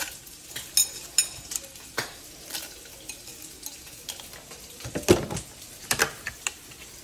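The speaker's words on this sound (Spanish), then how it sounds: "ahora le voy a agregar los chiles" Dried chiles go into a pot already holding garlic, tomato and chicken broth, giving scattered light clicks, taps and soft clatter over a quiet kitchen background with no talking.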